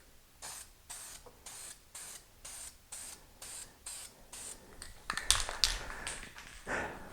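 Duplicolor ceramic engine enamel primer sprayed from an aerosol can, a series of about nine short hissing bursts in a steady rhythm, close and fairly loud, followed by a longer, busier spray passage near the end.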